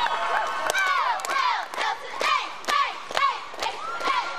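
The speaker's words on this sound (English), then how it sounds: "starting out the high school timeout cheer are the Wampus Cats from Leesville High School." A high school cheerleading squad performs a timeout cheer at a state championship, with loud rhythmic shouted chants and whoops repeating in bursts over a crowd, interspersed with thumps.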